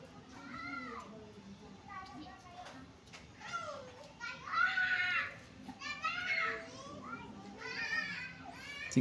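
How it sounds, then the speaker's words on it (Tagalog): Noisy children play outdoors in a neighbourhood in the Philippines, their high-pitched shouts and squeals rising and falling continuously against a steady background murmur. "Ang ingay ng mga bata."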